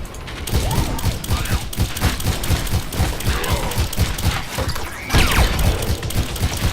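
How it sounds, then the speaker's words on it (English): D.Va's rapid-fire mech guns in the Heroes of the Storm video game, a dense, loud, unbroken stream of rattling shots with clanking mechanical game effects layered on top. "So you can see just the sheer rapid fire nature of my attacks."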